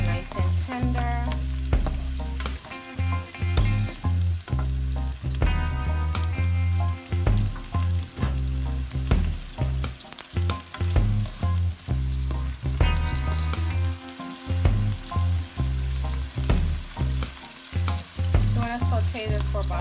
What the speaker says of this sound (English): you want to hear that sizzling noise when you're sauteing your onions